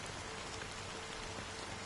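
Steady rain falling on a surface, a dense continuous patter at even volume throughout with no voices.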